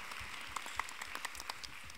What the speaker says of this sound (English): I'm gonna applaud for myself.